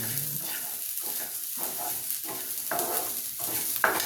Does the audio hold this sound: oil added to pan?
yes